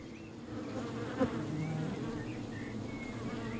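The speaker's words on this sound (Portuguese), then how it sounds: "Este apiário na orla da floresta tem 2 dúzias de colónias, 1 milhão de abelhas" Honey bees buzz around colonies at an apiary on the edge of a forest, a dense close swarm hum with individual bees whining past.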